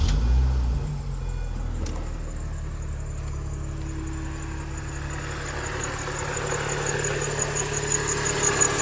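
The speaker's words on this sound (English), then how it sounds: "There's still a little bit of a belt squeal." A Mini Cooper S, R53 generation, idles steadily and close with a faint high belt squeal whining over the engine's low hum, after a brief start-up burst at the beginning.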